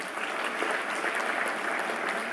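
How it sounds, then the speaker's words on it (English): Dense, steady applause from a conference audience at an international agriculture statistics conference, loud and continuous throughout with no talking over it. "Please give him a big round of applause"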